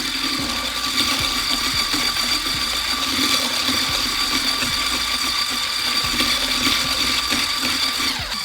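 An electric mixer whirs steadily while whipping dairy-free whipped cream, a continuous close motor hum with faint periodic clicks and rattles in the bowl.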